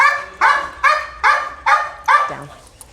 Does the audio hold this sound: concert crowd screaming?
no